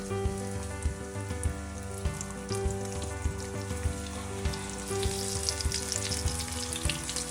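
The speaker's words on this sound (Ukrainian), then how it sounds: "В розігріту пательню наливаємо соняшникову олію та починаємо смажити в ній наших карасиків" Crucian carp fry in sunflower oil in a pan, the oil crackling and sizzling steadily, with small pops scattered through it and a low humming tone underneath.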